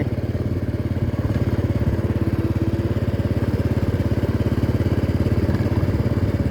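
A motorcycle engine idling close by just before parking, a loud, steady low putter with even rapid pulses and no change in revs. It runs alone with no talk over it.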